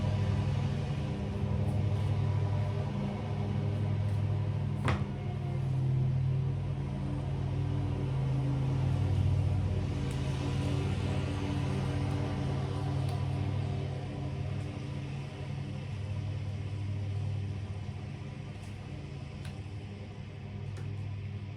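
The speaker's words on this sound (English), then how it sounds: "every single time I go to record, either a truck comes down the street" Low droning engine rumble of a truck on a residential street, steady and moderately distant, swelling slightly in the middle and easing off toward the end, with no one speaking.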